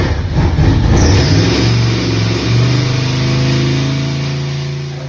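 An Isuzu Hombre pickup with a swapped-in LS V8 revs hard toward about 5,000 RPM, close and loud, with a rising roar that dips briefly, climbs again and then eases off.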